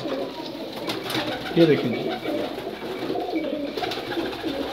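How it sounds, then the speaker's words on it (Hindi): Breeder pigeons of a pigeon keeper coo softly through steady background noise while someone talks nearby. "बहुत ही शानदार कबूतर, ब्रीडर कबूतर"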